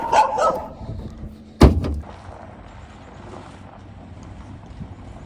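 Outdoors at a winter truck campsite, a big dog lets out one sharp, loud bark up close, then only faint wind and quiet background remain.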